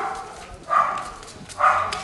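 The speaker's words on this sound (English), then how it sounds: "Move that your dog out of the compound." A dog in a residential compound gives two loud, separate barks about a second apart over a low background hum, with no one talking.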